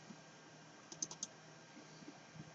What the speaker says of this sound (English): So I'm going to double click on the shortcut.